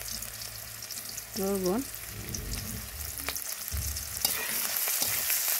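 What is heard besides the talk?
frying spices with onion and green chilli in a pan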